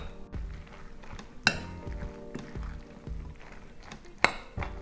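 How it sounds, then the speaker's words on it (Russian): A spoon stirs thick potato pancake batter with corn in a bowl, with a soft steady scraping and two sharp clinks of metal against the bowl. "И еще раз все хорошенечко перемешиваю."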